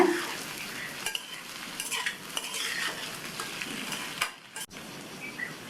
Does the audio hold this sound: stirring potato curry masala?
yes